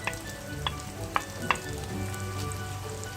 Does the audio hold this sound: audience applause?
no